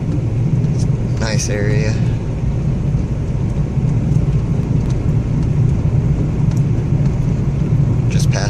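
A car climbing American Fork Canyon road past Timpanogos Cave into Uinta National Forest, heard from inside as a steady low road-and-engine rumble, with a short spoken remark near the start.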